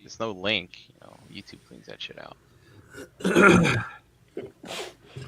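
One loud, close sneeze bursts out in the middle of casual talk, following a stretch of conversation and then giving way to more speech.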